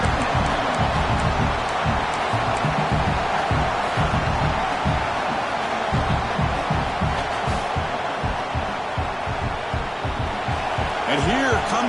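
Noise from a football stadium crowd at an Oregon versus Oklahoma game rises as fans try to fire up the defense for a red zone stop. The roar is loud and continuous, with a commentator talking over it throughout.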